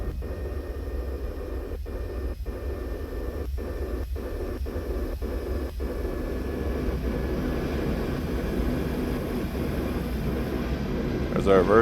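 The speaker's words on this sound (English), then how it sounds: "There's our reversers." Thrust reversers on a simulated CRJ-200 regional jet deploy after landing in X-Plane 11. A steady, loud jet roar swells noticeably louder at the end.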